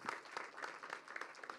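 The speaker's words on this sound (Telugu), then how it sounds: "సాదరంగా చప్పట్లతో వేదిక మీదకి ఆహ్వానం పలికేస్తున్నాం" An audience applauds at a film teaser launch event as a veteran actor is welcomed onto the stage. The clapping is steady and dense but fairly faint and distant.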